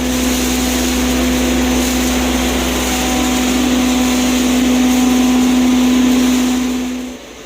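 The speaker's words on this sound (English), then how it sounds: "Here's the machine that grinds the maize." A maize grinding mill runs loudly and steadily, a continuous motor drone with a strong hum that holds for about seven seconds before dropping off at the end, with no voices.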